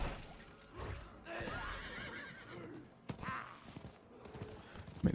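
A horse in the game Diablo IV whinnies once, followed by brief hoof sounds and scattered game effects; the neigh sits close and fairly loud amid other in-game noise.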